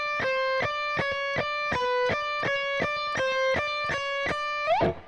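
Distorted electric guitar in a strict alternate-picking run beginning on a downstroke, about a dozen evenly spaced picked notes in a steady rhythm, close and loud, ending with a brief bending or sliding flourish.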